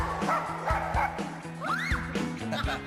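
Dogs in a cage-free animal shelter bark and yip repeatedly in quick bursts, with a whimpering whine in between, fairly close and lively.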